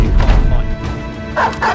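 A dog barks a few times in the mercenary strategy game Battle Brothers, the barks short and loud and close, with thuds underneath.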